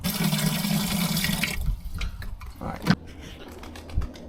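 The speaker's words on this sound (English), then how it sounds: "last thing I'm going to do is just put some water in that basically, and then leave it" Water gushes into a plastic gardening container holding compost material and potting mix, a dense pour for about a second and a half, then tapering to faint trickles and a few soft knocks.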